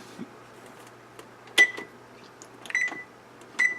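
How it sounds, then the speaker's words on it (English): A home kitchen oven beeps as it is switched on and set to 300 for a shepherd's pie: three short, clear electronic tones spaced about a second apart, faint over a quiet background. "So, we're going to turn the oven on."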